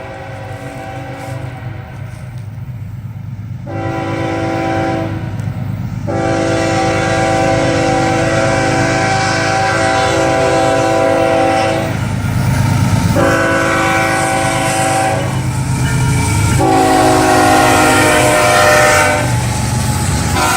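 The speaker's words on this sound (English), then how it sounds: "we got a train coming" A loud freight train with coal cars rumbles past while its horn blasts repeatedly in long, sustained blares, with steady rail noise continuing between the blasts.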